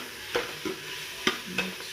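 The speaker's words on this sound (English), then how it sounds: "Stir it well. Mix it." Spoon stirring dry silver fish curry with fish masala and onion in a pan, a few scraping strokes over a soft, steady sizzle, close and alone.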